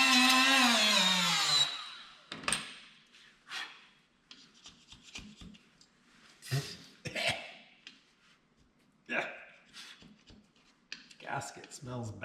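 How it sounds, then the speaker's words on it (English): Scraping an old gasket off a K100 engine: short rough scrapes in irregular bursts, close by, with pauses between strokes, after a stretch of talk at the start. "So I'm gonna scrape this old gasket off."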